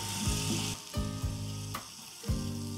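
Chopped ghevda beans stirred into sizzling masala in a pan, with steady frying hiss and several dull spoon scrapes and knocks against the pan, close and alone.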